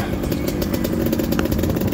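A 125cc motorcycle riding downhill on a mountain dirt trail, its engine close and loud with a rough, pulsing putter and rattling clatter, steady throughout the short stretch.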